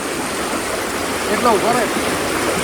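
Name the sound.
floodwater flowing through a village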